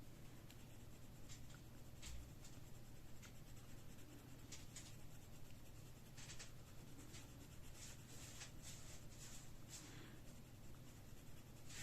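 A coloured pencil in deep blue is shaded lightly across paper in layers, making a soft, close, continuous scratchy stroking with quick repeated strokes.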